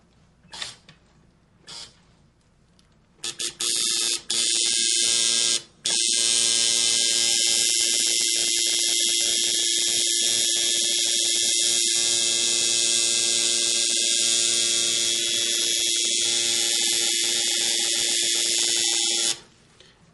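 A tattoo machine drawing a line buzzes loudly and steadily with a bright, sustained whine for most of the span, cutting in after a few short starts near the beginning.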